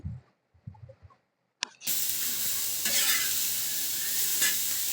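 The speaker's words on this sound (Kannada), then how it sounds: "ಕರ್ಚಿಕಾಯನ್ನ ಇಲ್ಲಿ ಹಾಕಿ ಹುರ್ಕೋಬೇಕು ಚೆನ್ನಾಗಿ ಹುರ್ಕೋಬೇಕು" Karchikayi roasts in a pan, first with a few soft clinks and stirring scrapes, then a loud, steady sizzle and hiss of frying that continues to the end, with occasional stirring bursts.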